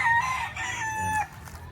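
A rooster crows once nearby, a loud drawn-out call that rises and then trails off.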